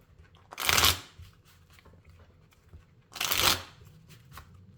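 Two separate bursts of Rider-Waite tarot cards being shuffled, each lasting about half a second with a pause of roughly two seconds between them, close and fairly quiet against a near-silent room.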